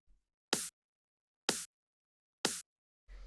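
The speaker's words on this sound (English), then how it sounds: "sharp snare like this. It's almost like a trancey kind of snare" Three bright, sharp trance-style snare hits ring out evenly spaced against silence, each crisp and short with a snappy tail.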